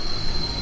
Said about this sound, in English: Or a tram.